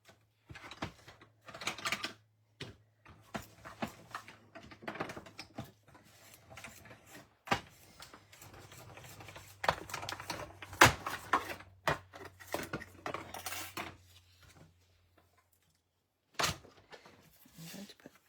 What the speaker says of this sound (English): I'm just going to bring in my cut emboss machine,